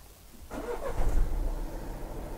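A Renault car engine cranks and catches, then runs at a steady, moderately loud idle, close by and with no talking.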